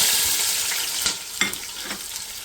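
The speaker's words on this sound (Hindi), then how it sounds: "तो फिर इसमें प्याज डालेंगे।" Chopped onions sizzle in hot oil with whole garam masala for a beef yakhni biryani, a steady close frying hiss broken by a few soft stirring scrapes and clicks.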